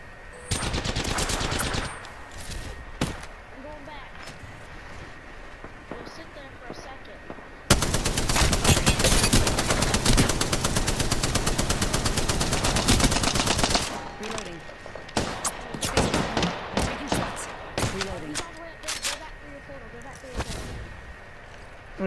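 Gunfire in Apex Legends, loud bursts of rapid automatic shots with a long sustained stretch of continuous fire in the middle, scattered single shots around it, and players talking over the action.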